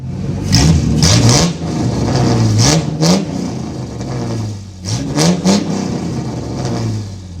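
A HEMI Dodge Charger Pursuit with an equal length 2-to-1 exhaust revs repeatedly, deep rumbling bursts rising and falling in several sharp throttle blips, loud and close with no talk.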